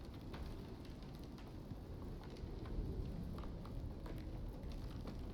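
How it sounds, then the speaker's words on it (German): Rain falls in the video game Icarus as a steady, faint wash of hiss and patter, with light drop ticks throughout and no pauses. "Bisschen Regen da."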